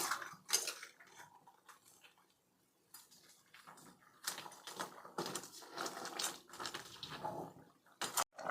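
A metal spoon stirs crab curry in a pan, making irregular clinks and scraping taps against the cookware, close and moderately quiet, with short pauses between bursts of stirring.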